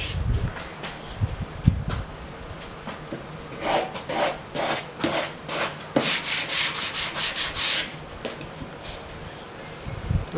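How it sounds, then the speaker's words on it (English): Hand sanding of wood veneer on a vintage hi-fi cabinet: steady rhythmic back-and-forth rasping strokes, close and fairly loud, quickening into a regular scrubbing pattern with brief pauses. "you don't want to sand too much and expose the gap between the"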